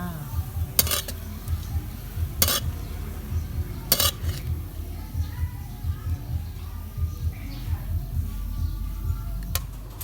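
Shrimp and bacon fried rice being scooped from a pan with the gas turned off, with scraping clinks of a utensil against the metal pan and a few sharp taps, under quiet talk.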